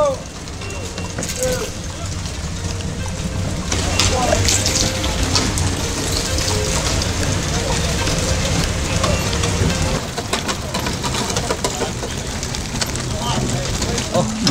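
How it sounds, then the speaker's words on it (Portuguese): Heavy rain pours steadily as ox-cart drivers arrive for a parade in Nova Resende, Minas Gerais, a dense, close hiss running throughout under people talking nearby. "Nossa, que chuva, tá louco."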